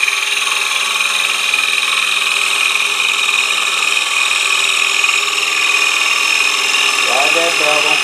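A gouge cuts a wooden bowl spinning on a lathe, giving a steady loud whine and hum with no break, plus brief talk near the end.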